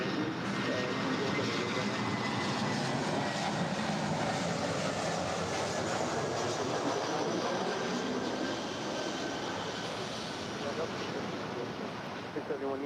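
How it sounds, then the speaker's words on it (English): A three-year-old Delta Airlines Airbus A321 arriving at LAX from Atlanta: a broad, steady jet roar with a hissing, rushing wash that holds loud throughout and eases slightly near the end. "This next arrival is Delta Airlines Flight 325 coming in from Atlanta. It's a 3-year-old Airbus A321."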